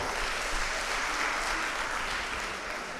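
Audience clapping for a young contestant at a Gambian children's talent contest: a dense, even wash of applause that holds steady for about three seconds with no voices over it.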